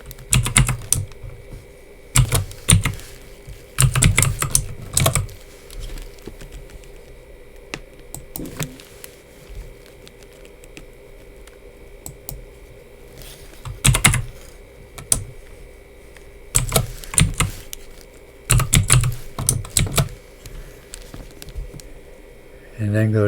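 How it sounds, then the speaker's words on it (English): Someone types a password on a computer keyboard during a Linux Mint install, with clustered bursts of sharp key clicks separated by pauses, fairly close and clear. "Then I put in my password."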